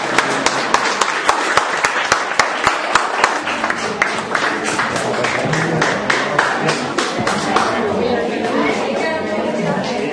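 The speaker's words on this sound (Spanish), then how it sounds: "Démosle un fuerte aplauso." An audience claps for a performance by third-grade girls at a community cultural event. Sharp, regular rhythmic claps open the stretch, then loosen into a dense, softer wash of applause with crowd chatter underneath.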